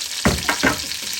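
Slit green chillies and long-cut garlic fry in a pan over low heat, a close steady sizzle broken by a few sharp stirring scrapes, with no voices.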